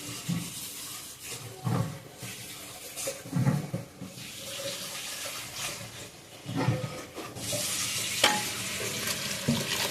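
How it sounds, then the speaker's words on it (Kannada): Fish curry masala fries in a pan with a soft, low sizzle, broken by scraping stirs of a spoon at irregular intervals, close but faint, with no talking. "ಸ್ವಲ್ಪ ಫ್ರೈ ಆಗಲಿ, ಹೆಚ್ಚೇನು ಆಗಬೇಕಂತೆಲ್ಲ."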